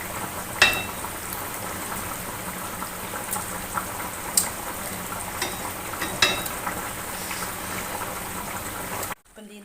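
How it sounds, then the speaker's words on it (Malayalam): Fish curry boils in a pot with a continuous low bubbling and simmering, broken by a few sharp clicks and pops before stopping abruptly at the end. "നമ്മുടെ മീൻകറി ഇവിടെ തിളച്ച് റെഡി ആയിക്കൊണ്ടിരിപ്പുണ്ട്."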